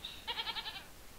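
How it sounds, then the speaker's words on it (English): A goat bleats nearby in a short, quavering call with a rapid pulsing tremble, clear and alone over faint background hiss. "goat"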